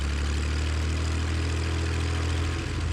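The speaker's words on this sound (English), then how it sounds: "We're going to run up the engine here." A small airplane's engine runs up before takeoff, a steady low droning hum with strong low harmonics, loud and close throughout with no talking.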